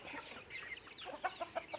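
Native free-range village chickens cluck in a short run of several close, sharp calls, denser toward the end, with no talking.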